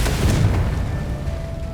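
Confringo blasting spell in Hogwarts Legacy, a loud low booming explosion that rumbles and fades over a couple of seconds.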